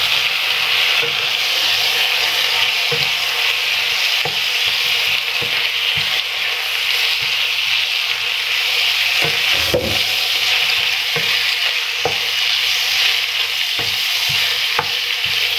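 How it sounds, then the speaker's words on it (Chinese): Bok choy leaves and mushrooms stir-fried in a wok, a steady loud sizzle of oil with repeated scraping and tossing knocks from the spatula throughout, no voices. "进行翻炒。"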